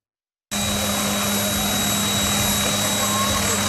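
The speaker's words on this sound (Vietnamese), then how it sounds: "Đây là lần đầu tiên hàng chục hecta lúa được phun thuốc trừ sâu bằng máy bay không người lái" An agricultural drone sprays pesticide over a rice field in Bac Ninh, its steady loud rotor whine and hum starting abruptly and continuing without pause.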